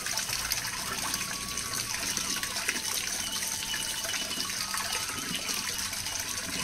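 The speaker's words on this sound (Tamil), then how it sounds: "நம்மளுடைய பெருமாள் சிலையை வந்து நல்லா தண்ணியில் வந்து அப்படியே அபிஷேகம் பண்ணிக்கலாம்" Water pours steadily over a Perumal idol during an abhishekam ritual at early morning, a continuous splashing gush at close range with no talk.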